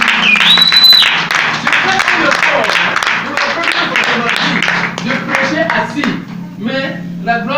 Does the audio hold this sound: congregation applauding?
yes